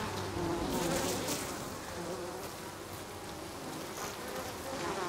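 Honeybees buzz steadily and up close in Ghost of Tsushima's Iki Island, a dense continuous insect drone with no talking.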